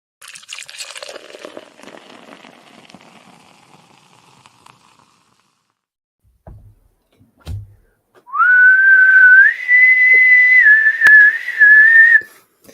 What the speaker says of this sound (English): My whistling was much better when we were practicing